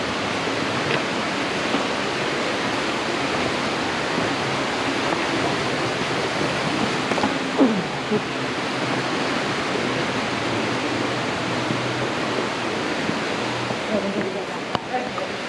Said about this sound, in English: Very fascinating cave and waterfall.